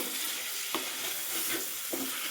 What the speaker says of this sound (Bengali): এটাকে দিয়ে আমি কিছু সময় ধরে নাড়াচাড়া করে দেবো বা কষিয়ে নেব